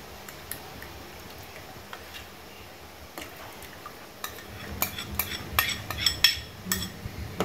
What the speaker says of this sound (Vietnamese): Mình khuấy cho đường tan lên.